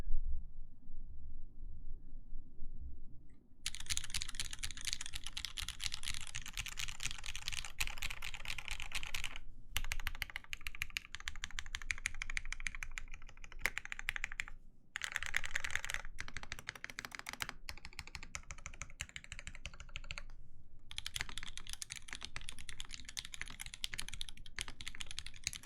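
Rapid, close clacking keystrokes on a Lin Whale keyboard with Cherry MX Vintage Black switches and a polycarbonate bottom, in bursts separated by brief pauses.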